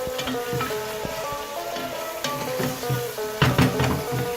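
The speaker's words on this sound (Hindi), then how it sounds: "अब हम इसमें चिकन की भुनाई करेंगे।" Chicken browning in a pan with onions for a desi curry, a steady close sizzle broken by sharp clatter from stirring, with a brief louder burst of frying noise near the end.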